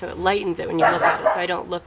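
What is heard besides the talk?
neighbor dogs barking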